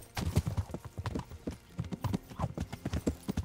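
A horse gallops in the medieval video game Kingdom Come Deliverance, hooves beating in a quick, steady rhythm of clustered thuds, close and moderately loud throughout, with no speech over them.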